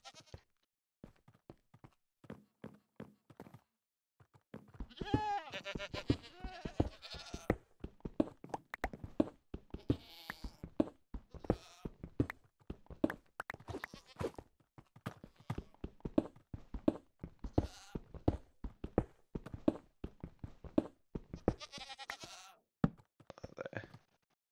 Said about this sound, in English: These fucking goats.